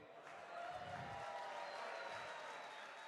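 Faint, distant applause from a large audience rises after a brief pause and continues as a steady wash of clapping.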